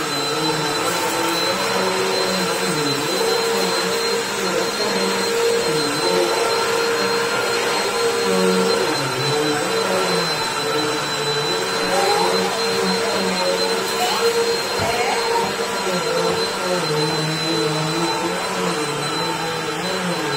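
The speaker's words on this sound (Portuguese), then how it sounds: "esse tapete aqui é só com aspirador de pó" A vacuum cleaner runs steadily on a rug indoors, a loud continuous motor whine with a constant high tone that holds for the whole stretch, its pitch wavering slightly as the head is pushed back and forth.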